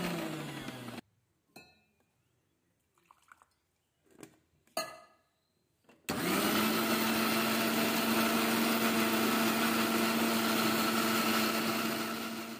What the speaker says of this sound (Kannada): ರುಬ್ಬೋದಕ್ಕೆ ಜೀರಿಗೆ, ಕೊತ್ತಂಬರಿ, ಸ್ವಲ್ಪ ಅರಿಶಿನ, ಹಾಗೆಯೇ ಸ್ವಲ್ಪನೇ ಹಸಿಮೆಣಸು ಹಾಕಿ ಇದನ್ನು ಚೆನ್ನಾಗಿ ಈಗ ರುಬ್ಕೊತಾ ಇದ್ದೀನಿ